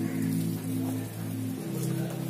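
Rain falls steadily around the YouTube Space building in Mumbai, a continuous broadband hiss with a low constant hum underneath and no voices.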